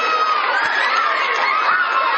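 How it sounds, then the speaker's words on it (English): Schoolchildren at a science presentation cheering and shouting together in a loud, continuous crowd roar, with no distinct individual claps. "Can I have a round of applause for Sierra, who is absolutely right?"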